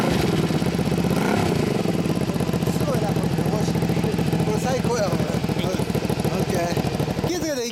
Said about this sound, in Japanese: ほんでエンジン音聞かせて。